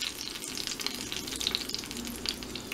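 Red tomato enchilada sauce sizzles and spatters steadily in a hot pan, a close, even crackling hiss with no talking.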